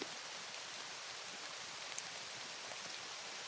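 Steady rain falls outdoors under an overcast sky, a soft, even hiss of drops with no voices, holding constant and fairly faint throughout.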